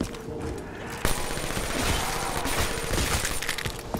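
Continuous rapid gunfire from Call of Duty Black Ops 3 Zombies, a dense loud barrage with a sharp shot standing out near the start and bursts that barely pause.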